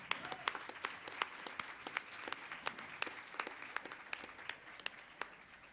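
A modest audience at a reggae music panel claps for a singer, sparse individual claps standing out sharply over a thin bed of applause, fairly quiet and somewhat distant.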